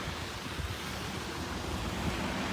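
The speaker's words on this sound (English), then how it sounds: "And it's pouring with rain, it's horrible." Heavy rain and wind at Dover port form a dense, steady broadband roar, loud and unbroken, with no voices heard.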